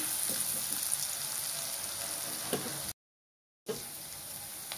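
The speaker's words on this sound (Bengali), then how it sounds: "পেঁয়াজটাকে হালকা ভাজা লমু।" Chopped onion frying lightly in about three tablespoons of hot mustard oil, a steady close sizzle and crackle with faint stirring taps. About a second of silence falls near the end before the frying resumes.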